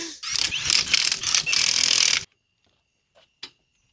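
A ratchet wrench clicks rapidly and loudly, tightening a wheel on a Subaru STI for about two seconds, then stops, followed by a couple of faint taps.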